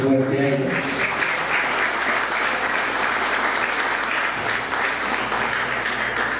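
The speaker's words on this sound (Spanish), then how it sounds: "un aplauso fuerte a ellas" Warm applause in an indoor official gathering in Norte de Santander, Colombia, honoring a group of religious sisters, a full steady roar of clapping that starts as a voice trails off and continues throughout.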